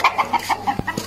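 Fighting-breed chickens clucking nearby: rapid, evenly spaced clucks in quick succession, with a couple of low thumps near the end.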